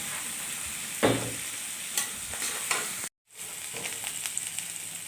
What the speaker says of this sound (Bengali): তাই এটাকে সুন্দর করে ফ্রাই করে নেবেন